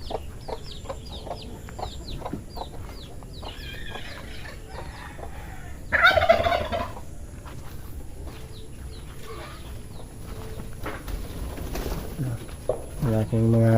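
Birds call and chirp repeatedly in short bursts around a yard, with farm-fowl clucking mixed in and a brief louder rustle midway.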